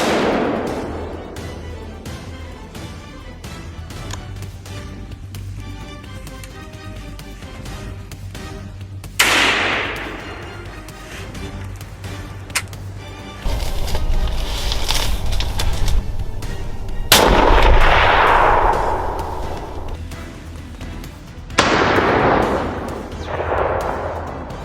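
Hunting rifle shots ring out in a forest, several sharp cracks, some close and loud, with echoing tails, spread out over a continuous rumbling background.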